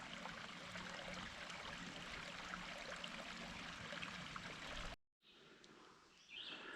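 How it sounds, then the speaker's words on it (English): Steady trickling and babbling of a small creek in the Allegheny area, close and continuous, briefly dropping out before quieter flowing water with a faint bird call. "Just a little creek is enough."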